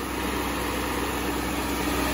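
A Ford 3610 tractor engine idles at a steady, low rumble, continuous and even with no speech over it.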